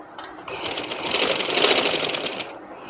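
A sewing machine stitches fabric for a designer dress with square sleeves, a rapid, even mechanical chatter lasting about two seconds at moderate volume with no talking.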